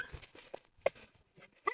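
A few short, faint dog yips and whimpers in quick succession, close by and quiet.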